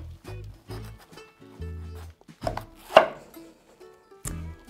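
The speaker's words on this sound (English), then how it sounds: "So we're going to cut our cabbage in half." A knife cuts through a cabbage on a board in a series of close, crisp chops and crunches, with one louder thud near the middle.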